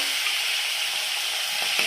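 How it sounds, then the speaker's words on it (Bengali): Tilapia pieces fry in hot oil with a steady, bright sizzle and a few small pops near the end, close by and alone. "আর দুটো মাছ ভেজে নেব"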